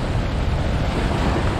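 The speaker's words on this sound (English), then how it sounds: "somewhere around 14 feet, the Susquehanna River is going to crest in probably about an hour" Susquehanna River floodwaters pour over the Holtwood Dam near the crest of a hurricane flood, a steady, loud, broadband roar of rushing water with wind buffeting the microphone throughout.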